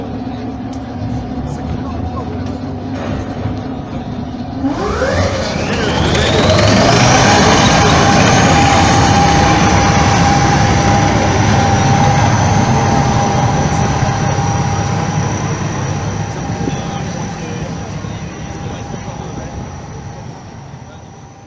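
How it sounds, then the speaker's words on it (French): A British Centurion tank drives past at a dynamic tank demonstration in Saumur, its engine rising into a loud, sustained whine and heavy rumble that swells, then slowly recedes. "Véhicule, c'est le char Centurion britannique."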